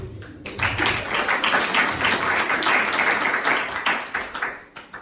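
A church congregation breaks into steady, full applause that fills the room at close range, fading slightly toward the end with a faint voice underneath.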